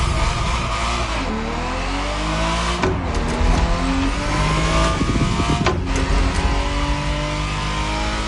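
A Ferrari Testarossa in the racing game The Crew Motorfest revs hard. The engine note is loud and continuous, with rising and falling pitch sweeps as it accelerates, and there is no talking.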